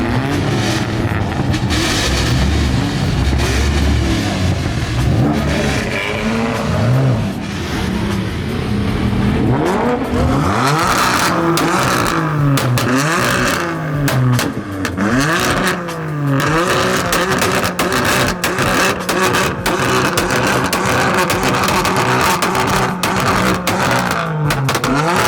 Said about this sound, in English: Rev it, rev it.